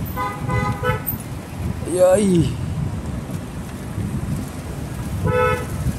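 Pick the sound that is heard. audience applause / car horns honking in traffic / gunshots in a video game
car horns honking in traffic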